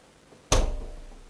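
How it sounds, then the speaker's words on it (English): A small Cookology BC46BK table-top beverage cooler door slams shut once with a sharp, close thud that decays over about a second; otherwise quiet. "Slam the door."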